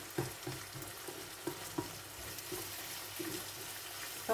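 Bacon bits cooking in melted margarine in a pan, a faint steady sizzle with small recurring pops and occasional stirring scrapes.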